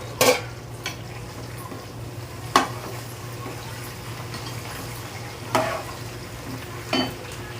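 Okra and tomato frying in a pan, a soft steady sizzle broken by a few sharp clinks and scrapes of a utensil stirring at irregular intervals, close and moderately quiet.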